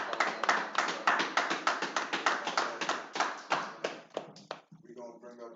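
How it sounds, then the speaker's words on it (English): A crowd claps hands at a lecture event, with rhythmic, loud, close claps in a steady pulse that thins out near the end, leaving a lone voice at the close. "give a hand clap, man, for Officer Thabawan"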